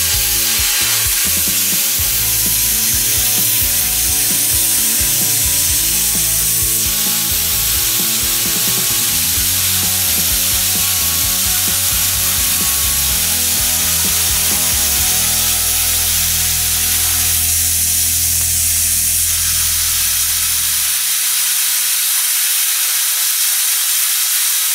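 A cheap plasma cutter running at 35 amps on 110 volts slices through metal with a loud, steady hiss and a droning low hum. It keeps going for about twenty seconds, then cuts off abruptly into quiet.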